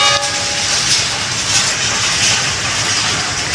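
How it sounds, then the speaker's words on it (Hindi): Khyber Mail express train rushing past at speed through Multan City, a loud, close, continuous roar of wheels and carriages with a short horn note at the start. "तेज़ तरीन ट्रेन पाकिस्तान की।"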